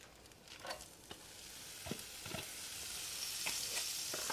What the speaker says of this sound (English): We're going to go ahead and add our onion now.